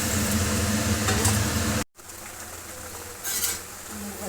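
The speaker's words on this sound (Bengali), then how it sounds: "এবার এই ভাজা ডিমগুলো দিয়ে দিলাম।" Fried eggs drop into a pan of simmering Bengali egg curry, setting off a loud, steady sizzle and bubbling that briefly cuts out, then resumes more softly with a small burst of hiss near the end.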